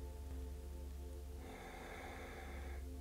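A slow, controlled exhale during yoga belly breathing, one soft airy breath lasting over a second, close and quiet over a steady low hum.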